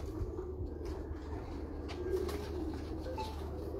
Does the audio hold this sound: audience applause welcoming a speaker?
no